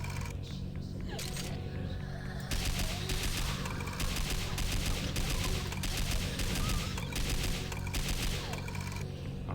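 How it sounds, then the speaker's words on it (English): Sustained rapid gunfire from a DOOM mod, dense and loud, with fast bursts running almost nonstop over a thick layer of game noise, and a voice speaking under it. "Don't stop shooting."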